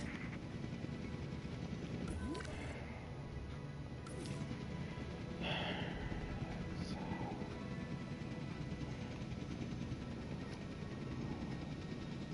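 Helicopter airlift delivering a dinosaur in the video game Jurassic World Evolution 2, a steady rotor and engine drone filling the background with a few clanks and thuds, no voices.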